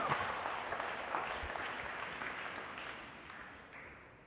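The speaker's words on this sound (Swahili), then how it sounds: "Mpe Yesu makofi." A church congregation clapping in a steady, distant wash of applause that swells briefly and then slowly fades away.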